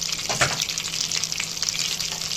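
Garlic fries in butter or ghee with a dense, even sizzle close by. A brief scrape of stirring rises early in the short stretch.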